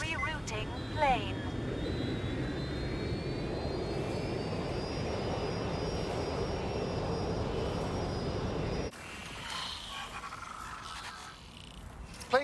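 A plane's engine drone in the video game Watch Dogs Legion, a steady loud roar with rising whine that cuts off near the end, followed by quieter game ambience.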